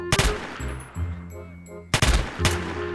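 Gunfire at a shooting range in a Roblox game: loud, close rapid shots in two clustered bursts with a short ringing gap between them.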